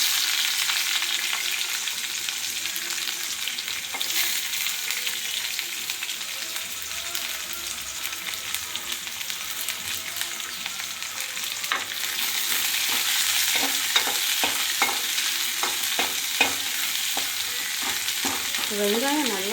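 Onions for a kurma fry in a pan, a steady close sizzle with spatula scrapes and stirring clatter that grow busier toward the end, no talk over it.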